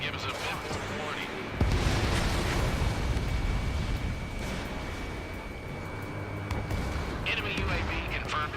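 An enemy drone exploding in the jet combat game Ace Combat 7: Skies Unknown, a heavy burst amid roaring engines and booming combat noise, with radio voices talking over it.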